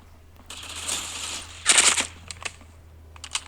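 Shotgun fire in a first-person shooter video game: a sustained burst of blasts, then one louder, denser close-range blast and a few sharper shots trailing off, all heard alone with no talking.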